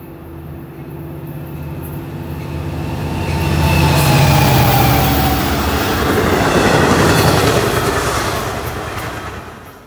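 A Long Island Rail Road or Metro-North diesel train rumbles past close by, swelling loud with rattling wheels and a low engine drone, then easing slightly as it continues.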